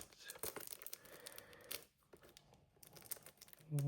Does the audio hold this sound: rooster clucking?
no